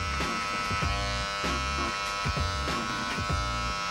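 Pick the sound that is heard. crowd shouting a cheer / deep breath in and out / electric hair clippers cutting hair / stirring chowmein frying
electric hair clippers cutting hair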